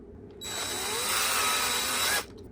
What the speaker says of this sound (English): Take my drill gun now, right in the center.